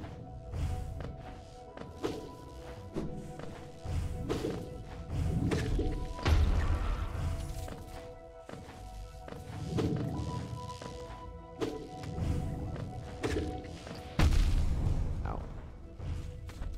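Explosions in the video game Hollow Knight land as a series of heavy thumps and booms, roughly six bursts spaced a couple of seconds apart, over a quieter game soundscape.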